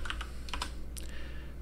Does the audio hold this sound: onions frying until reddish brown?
no